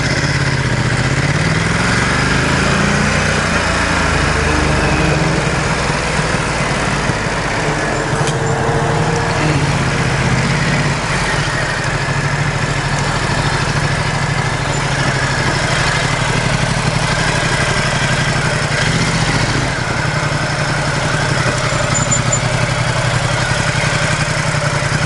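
Ducati XDiavel motorcycle engine running steadily while riding, a continuous mid-pitched drone with wind rush and slight rises in revs throughout.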